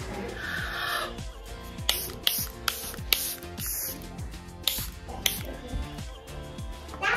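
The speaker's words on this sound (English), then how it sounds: "Airbrush Flawless Setting Spray" Several short, sharp hissing sprays of Charlotte Tilbury Airbrush Flawless setting spray burst out in quick succession, close by, with small clicks and rustles between them.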